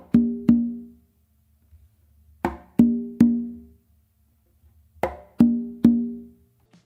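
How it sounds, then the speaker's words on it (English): Hand drums played in a repeating pattern of a sharp slap on the main drum followed by two resonant open tones on the tumba, three groups of strikes separated by short silences, close and clear. "you're gonna do 2 opens on the tumba that's in front of you"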